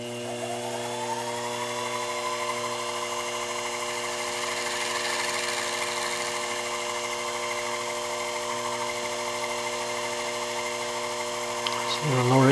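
A milling machine cuts a main mast head, giving a steady, continuous high mechanical whine with a strong droning tone that holds for about twelve seconds and swells slightly louder near the end.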